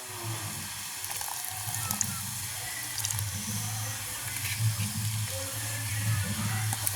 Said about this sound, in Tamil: அளவாக உப்பு சேர்த்து கொள்ளுவோம் நான் உப்பு தண்ணி தான் விட போகிறேன்